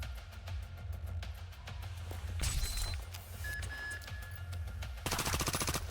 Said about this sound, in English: We'll also take some pot shots at her.